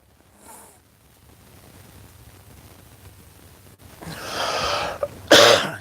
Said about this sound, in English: This damn coughing's got to stop.